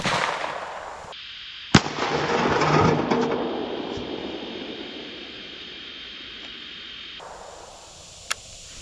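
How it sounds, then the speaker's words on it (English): A gunshot fired into an empty store-bought shopping bag gives one sharp, loud crack, followed by a washy, fading rumble and a faint later click. "Let's, shoot my bag with no bricks in it."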